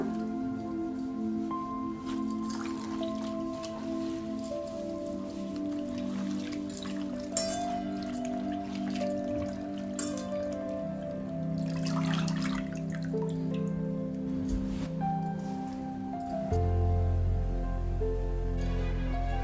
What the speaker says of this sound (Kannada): ಈಗ ಪಾಲಕ್ ಚೆನ್ನಾಗಿ ತೊಳ್ಕೊಂಡಿದ್ದೀವಿ.